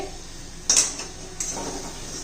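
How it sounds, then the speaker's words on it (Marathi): A spoon scrapes and clinks against a pan while gram flour (besan) is stirred for jhunka, two short metallic scrapes over a low steady background hiss. "पुन्हा एकदा आपण हलवून घेऊया बेसन शिजायला जरा एक दोन तीन मिनिटं लागतात"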